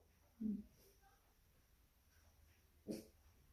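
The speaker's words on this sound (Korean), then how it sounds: "오늘 또 멍멍이가 있어갖고" A dog gives two short, low barks about two and a half seconds apart, heard faintly in a quiet room.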